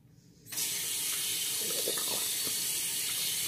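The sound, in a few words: rinsing hands under running tap water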